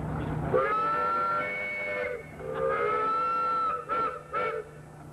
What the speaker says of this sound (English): Blow the whistle there for the folks a couple of times.